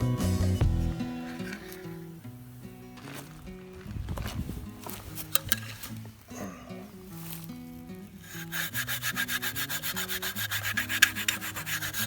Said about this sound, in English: I'm going to hit it really hard with the sandpaper